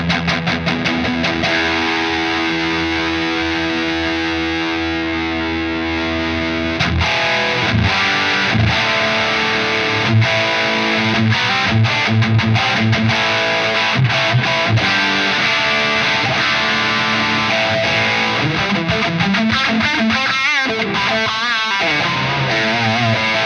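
Electric guitar played through a Wampler Pantheon Deluxe dual overdrive pedal with the gain pushed up, sustained distorted chords and riffs with hiss, continuous and loud, shifting to choppier picked phrases partway through.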